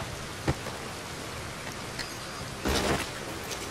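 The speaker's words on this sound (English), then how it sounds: "Oh, it's actually raining?" Rain falls in Red Dead Redemption II, a steady dense hiss with scattered droplet taps and a brief swell of heavier downpour near the end, heard alone without talk.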